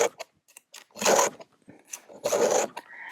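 A file rasps against a chainsaw chain to sharpen it, giving two long strokes plus a few short scrapes, close and fairly quiet, with no talking.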